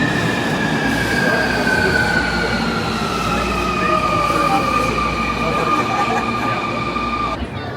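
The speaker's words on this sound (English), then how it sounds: "I think this is our train." A Tokyo subway metro train arriving at the platform, loud continuous rumble with steady high-pitched wheel squeal running throughout, close and dominant.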